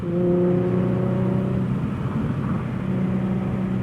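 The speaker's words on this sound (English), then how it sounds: "that was a nice downshift" Infiniti G37 with a Motordyne exhaust and six-speed manual drones loudly and close, its engine tone holding steady, then easing and shifting briefly as it downshifts on a country road, with no voices.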